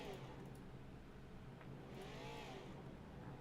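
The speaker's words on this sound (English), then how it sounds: "who is now going to go ahead and do burnouts here across the start-finish line" Street stock race car in iRacing doing burnouts across the start-finish line at a USA track, a continuous droning engine roar with wavering pitch, steady and fairly muffled throughout.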